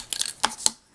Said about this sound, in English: And we'll cut that.